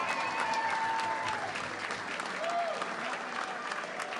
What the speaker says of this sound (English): Big round of applause for Jim Brady